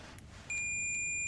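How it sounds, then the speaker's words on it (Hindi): A multimeter set to its buzzer continuity range while checking a 1117 2.5V voltage regulator IC lets out a single high, steady electronic beep that starts partway through and holds loud and unbroken to the end over faint background hiss. "सेट कर लिया है बजर रेंज में"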